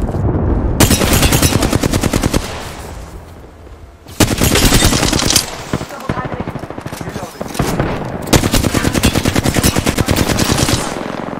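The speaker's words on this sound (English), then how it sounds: "I'm taking fire!" Automatic gunfire in the first-person shooter Apex Legends: long, loud, rapid bursts of shots in close succession, broken by brief pauses, with game effects mixed in.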